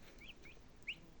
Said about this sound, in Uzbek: Mana hamma xonaga kurkalar bosyapti.